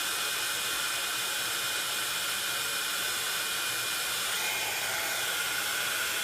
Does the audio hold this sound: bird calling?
no